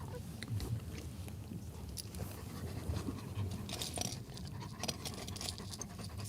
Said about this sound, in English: you can bring the puppies